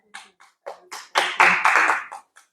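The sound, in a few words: congregation clapping at a church meeting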